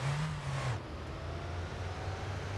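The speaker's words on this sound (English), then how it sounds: "Why does this car sound so quiet?" A car engine in My Winter Car hums low and quiet, with a brief higher rev at the start that settles into a soft, steady drone.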